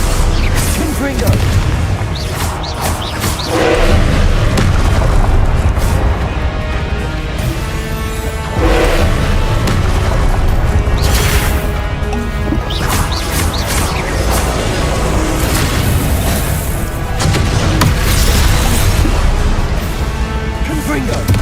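Repeated heavy fire-blast spell explosions in the Hogwarts Legacy video game, loud booming impacts and crashes one after another over a dense, continuous battle din.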